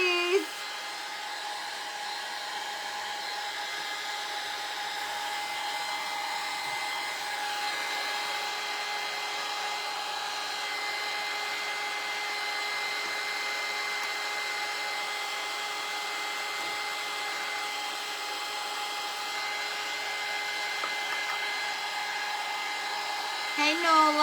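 A hair dryer blows on painted wooden advent calendar pieces, a steady, even, close whir that runs without a break for the whole stretch.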